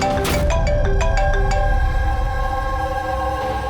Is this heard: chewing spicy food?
no